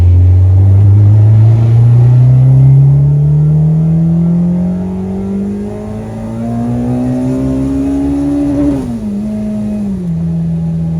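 A K-swapped Mini Cooper engine revs up in one long, loud climbing pull on a tuning run, its pitch rising steadily before a sharp drop as the throttle lifts, then settling into a steady drone.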